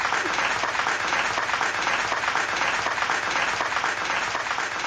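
Sustained round of applause from a crowd, dense continuous clapping at steady loudness throughout with no break.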